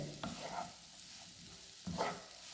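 Mango pickle with asafoetida and fennel is stirred in a pan: two distinct scraping strokes sound over a soft, steady sizzle, close by and without talking.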